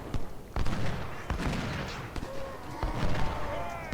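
Booming cannon and artillery fire in the Civil War battle game Ultimate General: Civil War, several irregular blasts and rumbles over steady battlefield noise.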